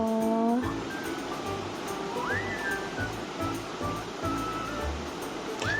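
River water flows with a steady, broad rushing wash that never lets up, while a few thin bird-like chirps and whistles rise above it.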